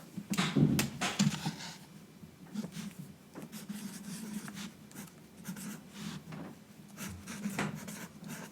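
A pen writing goals on paper in a soft close-up, with continuous light scratching strokes and brief pauses between words, quiet and intimate with no speech.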